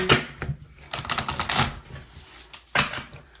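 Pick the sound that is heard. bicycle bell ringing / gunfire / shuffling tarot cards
shuffling tarot cards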